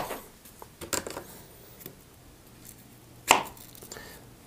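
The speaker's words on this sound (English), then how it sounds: "Cut some strawberries up like so." A knife chops fresh strawberries into big chunks on a cutting board, giving a handful of irregular, close taps with one sharper, louder chop near the end and quiet pauses between strokes.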